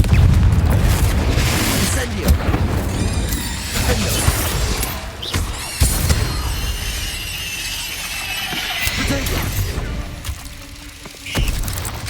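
Confringo explosive spell blasts from the video game Hogwarts Legacy: booming bursts and crashes erupt during a busy magic duel and layer over a constant din of other effects.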